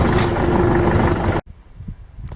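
Belarus tractor running loud and steady with a clattering engine while raking hay, then cutting off abruptly partway, leaving quiet rustling background.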